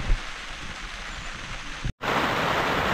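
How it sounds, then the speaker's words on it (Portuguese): Steady rain falls on a plastic tarp at a riverside campsite, a dense, continuous patter that drops out briefly near the end and then resumes just as strongly. "É, começou a chover."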